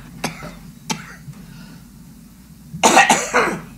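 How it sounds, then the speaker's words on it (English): Several short coughs: two sharp isolated ones early, then a louder cluster of harsh coughs near the end, close to the listener. "Or coughing."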